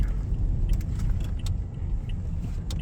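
A car cruises smoothly with a steady low road rumble heard from inside the cabin, while light jangling clicks of keys or loose items tap at irregular intervals over it.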